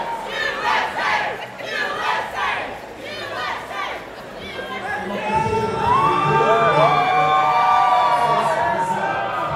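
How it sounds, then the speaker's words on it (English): A crowd at a Winnipeg bouldering competition final chants USA in rhythmic waves, loud and roaring, rising into sustained cheering and whoops, with a commentator talking over it. "we got the USA chant from the crowd"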